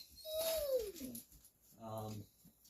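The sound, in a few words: dogs whining to go out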